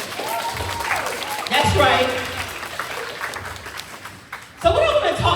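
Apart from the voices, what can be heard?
audience applause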